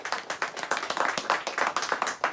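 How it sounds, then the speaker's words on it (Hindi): An audience at a prize announcement in Deoghar claps steadily and briskly for a couple of seconds, close and fairly loud, with no talking over it. "चलो भाई जोर से हाथ ताली ताली।"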